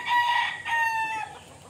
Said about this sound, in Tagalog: Napakatatangkad mga boss ng mga manok.